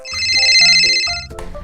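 A telephone ringtone plays loudly and up close, a bright electronic melody of a few stepped tones that cuts off abruptly near the end.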